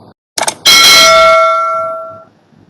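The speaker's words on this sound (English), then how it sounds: "So this would be the first round, the bell sound." A single bell strike rings out loudly and clearly, its tone sustaining and slowly fading for nearly two seconds, preceded by a couple of brief knocks; it marks the end of a timed round during a final-year interior design project presentation session.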